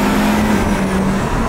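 An Audi TT RS pulls hard on an open road, its engine droning with a steady loud growl and a sustained low hum, heard close from inside the car.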